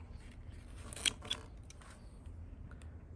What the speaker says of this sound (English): Just gonna carefully snip, bend if you need to